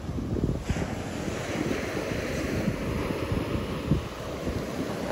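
Rough surf breaking on Sanibel beach, a steady loud wash of crashing waves with gusty wind buffeting the microphone throughout, one stronger surge near the end.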